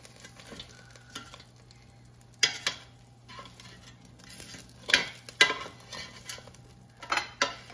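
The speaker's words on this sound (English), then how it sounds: "I'm going to flip them over and brush the other side with barbecue sauce" Pork rib tips being turned over in an air fryer basket, a few sharp clattering knocks and scrapes of utensils against metal scattered among quiet stretches with faint sizzling and a low steady hum.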